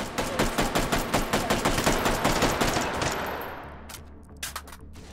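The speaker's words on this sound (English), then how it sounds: "Ooh, shot his gun." Rapid automatic gunfire in the VR game Hot Dogs, Horseshoes & Hand Grenades: a steady, loud burst of about fifteen evenly spaced shots over three seconds, then fading echoes and a couple of scattered later shots.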